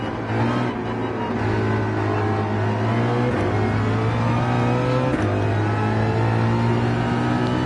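Ford Mustang race car engine at Road Atlanta drones loud and steady from an in-car perspective, holding a sustained tone with brief dips around shifts, continuous throughout with no talk.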